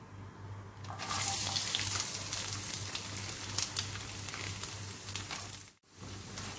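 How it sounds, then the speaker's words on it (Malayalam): Pieces of coconut sizzle in a hot pan over a low flame while beef ularthiyathu is being cooked, a steady close crackling hiss that swells loudly after the first second and continues unbroken until a brief drop near the end. "ഇനി ഇതിലേക്ക് അല്പം നാളികേരക്കൊത്ത് ഞാൻ ചേർക്കുന്നുണ്ട്"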